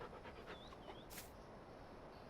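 A dog pants softly in Farming Simulator 19 with a few faint whimpers, set low beneath a steady ambient game hum with a brief bright burst of noise midway.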